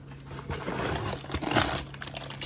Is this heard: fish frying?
no